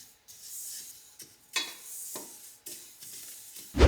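Sesame seeds toasting in a pan and being stirred now and then, soft scraping and rustling sweeps with a light dry sizzle, close up, ending in a louder knock against the pan.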